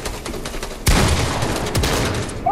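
Rapid bursts of gunfire in a video game shooter, a sudden loud volley that keeps crackling steadily after a quieter stretch, with no talk over it.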